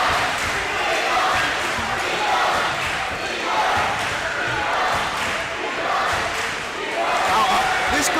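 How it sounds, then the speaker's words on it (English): A packed gym crowd at a varsity high school men's basketball game keeps up a loud, continuous roar of chanting voices with thumps and bounces mixed in, the sound rising and falling in waves. "Let's take a minute to listen to that Eagles chant."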